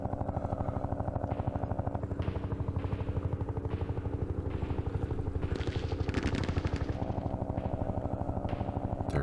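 Helicopter gunships in the Vietnam war game Campaign Series Vietnam, a steady rapid rotor chop throbbing on and on at moderate loudness with faint clatter layered in.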